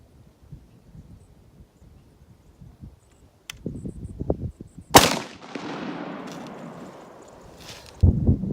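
A .348 Winchester rifle fires a single hand-loaded 228 bullet outdoors, one sharp, loud crack with a long rolling echo fading over several seconds, after quieter handling sounds and before a later thump.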